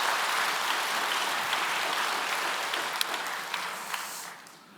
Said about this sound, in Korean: 우리 함께 영광의 박수 한번 돌리겠습니다.